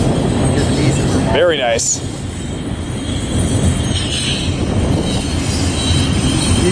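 Freight trains rolling past at Barstow, a loud continuous rumble of wheels and cars with brief squeals, close to the listener, while a person briefly talks over it.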